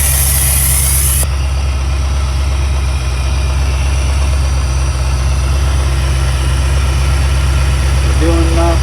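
Car engine with Aces EFI fuel injection idling at close range, a loud steady low rumble and vibration throughout, with a voice speaking over it.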